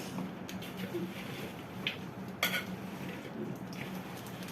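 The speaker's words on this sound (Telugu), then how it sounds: "ఇట్లా 10 కేజీల ముక్కలకి పప్పు నూనె వేసి కలుపుతున్నాను" Ten kilograms of cut mango pieces being tossed and mixed with groundnut oil for pickle, a steady wet rustle with a few scattered clinks of a utensil, moderately close and without talk.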